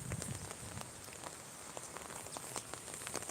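Steady storm rain patters on surfaces with a continuous hiss and scattered drop taps, and gusty wind rumble underneath.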